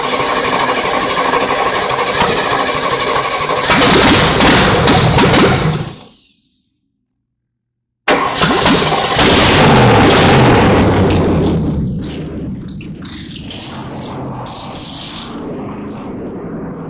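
An old hot-wired vehicle engine cranks on its starter with loud rumbling noise, cuts out briefly to silence, then restarts and runs steadily, settling to a lower, rougher idle; no water in the cooling system.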